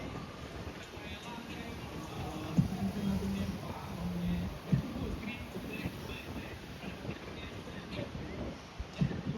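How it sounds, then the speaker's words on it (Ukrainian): Gusty seaside wind on the beachfront at Zatoka buffets the microphone with a constant low rumble, while a person talks intermittently underneath. "Сьогодні дуже сильний вітер, я навіть не знаю, де е, стати, щоб не задувало"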